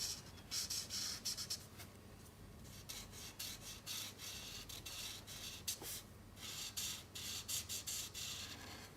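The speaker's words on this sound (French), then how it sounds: "Avec le gris chaud neuf, on peut colorier ici toute la partie du casque." A warm gray marker being dragged across paper while coloring in a helmet on a cartoon drawing, giving repeated soft scratchy rubbing strokes in short bursts, close and fairly quiet, with no talking.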